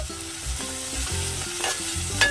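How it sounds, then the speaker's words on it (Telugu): Onions salted with coarse salt fry and get stirred in a pan, a close, lively sizzle broken by repeated scraping strokes, with no voices. "ఇది కొద్దిగా సిమ్లో పెట్టుకుని బాగా గోల్డెన్ కలర్ వచ్చేదాకా వేయించుకోవాలండి"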